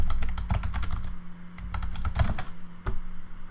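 Rapid, close clicking of keys on a computer keyboard, typing a search into Google, in quick uneven bursts with a brief pause near the middle.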